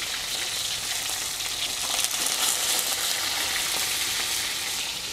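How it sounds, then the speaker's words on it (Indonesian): Milkfish frying in hot oil, a steady dense sizzle and crackle that holds evenly for several seconds, close and fairly loud with no voices. "sekarang goreng ikan bandengnya"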